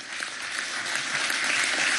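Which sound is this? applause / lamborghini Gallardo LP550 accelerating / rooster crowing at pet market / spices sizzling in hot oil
applause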